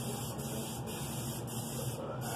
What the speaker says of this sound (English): spraying cooking spray on my walls